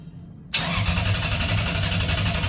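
A Toyota 3UZ V8 on a standalone wiring setup cranks briefly and catches, bursting into a loud, steady idle close by.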